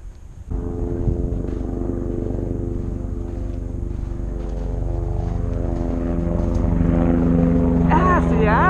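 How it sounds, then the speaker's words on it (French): A helicopter drones steadily and loudly throughout, its engine and rotor noise swelling slightly toward the end, while voices talk over it in the final seconds. "Il y a même des hélicoptères."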